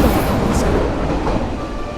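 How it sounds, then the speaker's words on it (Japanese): An unmanned seven-car electric train rushes into Mitaka Station in Tokyo at 60 km/h, a loud, steady, close rumbling roar with rail clatter and a brief high squeal. "誰も乗っていない電車が突っ込んできた。"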